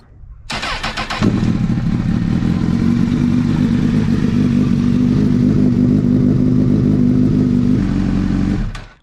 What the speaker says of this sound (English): And now we start it up and let it warm up.